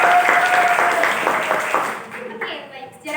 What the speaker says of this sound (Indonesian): Beri aplaus kepada mereka.